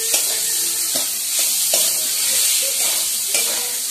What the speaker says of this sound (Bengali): সেই ডুমুরটা দিয়ে দিলাম মশলার সঙ্গে কষিয়ে